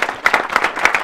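A studio audience on a television talk show breaks into brief applause, a close, lively burst of many hands clapping together.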